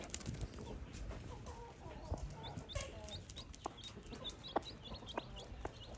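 Soft, repeated clucking from a mother hen with newly hatched chicks nearby, short bursts scattered over a quiet background with faint rustling and occasional chirps.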